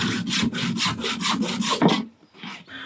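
A hand saw cutting small wooden logs to size for a solitary bee bug hotel, with rhythmic back-and-forth strokes, loud and close, ending abruptly followed by quieter handling.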